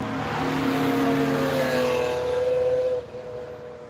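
A car driven hard around the Nürburgring, its engine roaring loud and steady from close by as the back steps out through a downhill corner, the note shifting and then dropping suddenly near the end.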